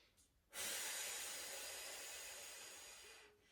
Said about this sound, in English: As you breathe out strongly through a straw.